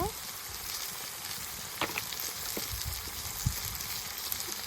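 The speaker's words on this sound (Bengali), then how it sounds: "সব কিছু ভালোভাবে ভেজে নেই।" Spiced meat fries in a pan with chillies, turmeric and ginger-cumin paste, giving a faint, steady sizzle broken by a few light stirring knocks, with no talking.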